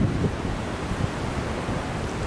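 Strong wind roars steadily outdoors on a cold day, a constant broadband rush with gusty buffeting on the microphone, loud and close, with no voices.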